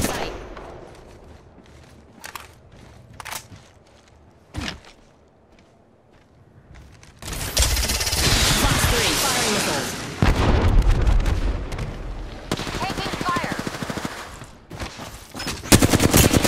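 Loud bursts of automatic gunfire and heavy shots in a battle royale game, starting with scattered isolated cracks, then sustained rattling volleys, booms and footsteps, with brief spoken callouts mixed in.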